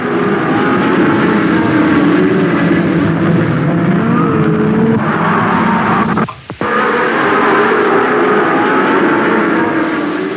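Race cars, among them Porsche and Lola entries, roaring off at the start of the 6-hour BOAC 500. A loud, dense, continuous engine roar with shifting pitches is broken by one brief dip partway through.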